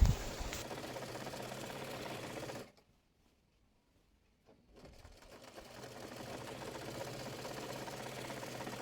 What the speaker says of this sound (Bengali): এরপর রাবারটি টেনে ধরে মাঝখান দিয়ে একটি সেলাই দিয়ে নেব।